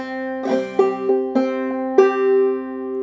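Clawhammer banjo picks a syncopated Darling Corey phrase, a handful of crisp plucked notes and brushed strokes with a sustained ringing melody note at the end, close and unaccompanied.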